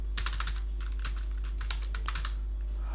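Rapid clicky keystrokes on a computer keyboard while entering VBA code for an Excel billing system, in uneven bursts over a steady low hum, close and fairly quiet.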